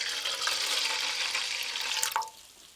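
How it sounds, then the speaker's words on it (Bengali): Water poured in a steady splashing stream into sour yogurt in a bowl for a yellow watermelon drink, close and continuous, cutting off near the end. "টক দই, এবার দেব জল"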